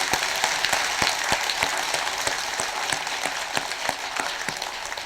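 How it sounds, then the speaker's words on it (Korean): An audience at a Buddhist temple dharma service applauding, a steady wash of clapping from many hands with sharper individual claps standing out, fading slightly toward the end. "주지스님과 여러분들께 박수 한번 보내주십시오"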